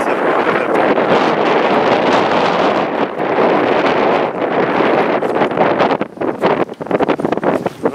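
A child riding a bike into a headwind sets off heavy wind buffeting on the microphone. It is a loud, continuous roar that turns choppy and gusty near the end, with no talking.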